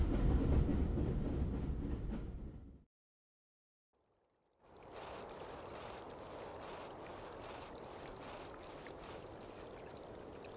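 A rattling train carriage in a point-and-click video game, a steady rumbling clatter that drops to total silence for about two seconds, then resumes quieter and continues evenly.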